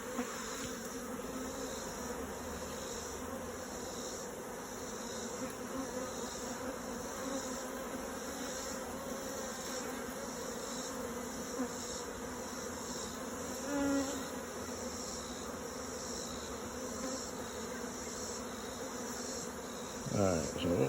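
Honeybees buzz continuously during the removal of a hive from an old barn, a dense steady drone from many insects close by, with a brief louder rustle near the end and no talking.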